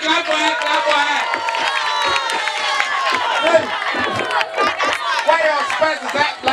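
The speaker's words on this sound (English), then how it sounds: "Clap for her, clap for her, clap for her." A lively crowd cheers and shouts at a fun entertainment event, many voices overlapping in a loud, continuous roar with excited yells rising and falling throughout.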